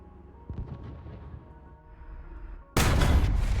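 A tank cannon in War Thunder, on the French EBR 1951, fires one sudden, loud blast that rolls into a sustained roar. Engine and battle rumble sit underneath, with a smaller thump heard earlier.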